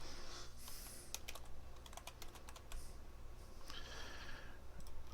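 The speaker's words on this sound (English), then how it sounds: "I'm sitting here typing out the name" Quick, irregular runs of keystrokes clatter on a computer keyboard, close and crisp, with short pauses between bursts over a low steady room hum.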